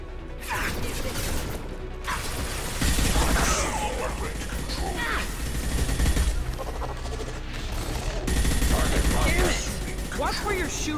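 Combat gunfire in the video game Mass Effect 2 during the suicide mission: heavy, sustained volleys mixed with mechanical clanking, loud and dense, with stronger bursts around three and eight seconds.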